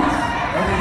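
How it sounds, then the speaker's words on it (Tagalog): A crowd at a political rally shouts Duterte's name, a dense, loud burst of massed voices in a brief moment. "Ang sigaw ng taong bayan, Duterte, nung nakita si Hontiveros"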